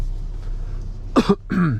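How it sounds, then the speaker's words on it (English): A couple of sharp, close throat-clearing coughs break through a quiet low hum inside a 2025 Kia Sorento diesel during a night drive, followed by a short rough clearing sound. "Coughing in your ears."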